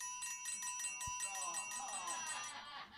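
A cowbell is rung as a punchline during a stand-up comedy set in a club, giving a quick run of bright metallic clanks up close before fading into room noise and murmuring from the crowd.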